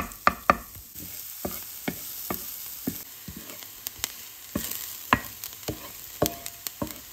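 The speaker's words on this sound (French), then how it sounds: "Ajoutez votre échalote et faites-la légèrement dorer." Shallot frying in melted butter in a pan: a soft background sizzle runs throughout, broken by frequent sharp spatters and scraping stirs at irregular intervals.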